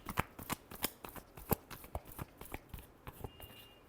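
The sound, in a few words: shuffling tarot cards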